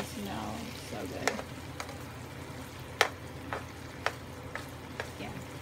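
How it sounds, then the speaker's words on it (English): Shrimp scampi cooking in a pan: a low, steady sizzle with occasional sharp clinks and scrapes of a utensil against the pan, fairly quiet. "I gotta get it on my plate and get this out of the pan because we don't want to burn the shrimp"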